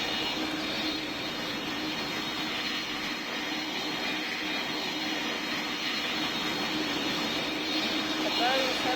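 A Boeing 767 taxis in a video game, giving a continuous, fairly loud jet engine whine and roar that holds steady and swells slightly near the end.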